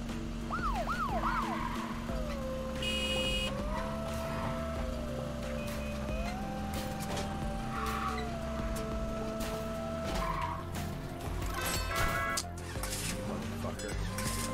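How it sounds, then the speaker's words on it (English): A police car siren wails in the driving game You Suck At Parking, its looping electronic tone rising and falling steadily alongside engine hum and occasional horn-like beeps, while a player talks over it. "Honking does stop their siren."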